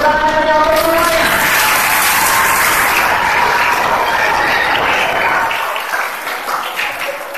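Applause from a class of young participants at a creative entrepreneurship workshop, loud sustained clapping with some crowd noise that fades near the end.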